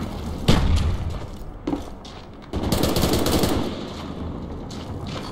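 Automatic gunfire from an MP5 submachine gun in a Call of Duty multiplayer match, coming as a loud burst followed by a sustained, slightly quieter stretch of rapid shots with heavy impacts in the mix.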